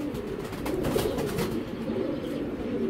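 Chinese racing pigeons coo in low, soft, repeated rolling calls close by, with faint flutters and chirps around them and no talk.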